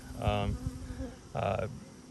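Honeybees buzz close by around dried, extracted honey frames from sourwood hives, two distinct loud droning passes separated by a short quieter gap.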